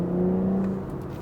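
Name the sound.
BMW M440i xDrive engine accelerating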